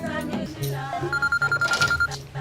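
A phone rings repeatedly from incoming calls, a rapid pulsing electronic trill that starts partway through after a brief, moderately loud burst of other sounds.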